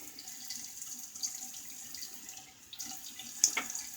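Running tap water rinses soap off a single edge razor at a sink, a soft steady flow with light splashes and a couple of sharp metallic clinks toward the end.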